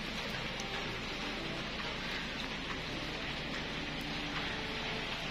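Water sprinkled over a coconut bonsai with freshly cut roots to mimic rain, making a steady, even hiss of spray and droplets on leaves and soil, fairly soft and continuous throughout with no talking.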